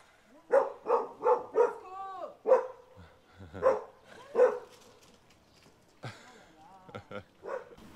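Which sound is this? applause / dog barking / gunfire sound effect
dog barking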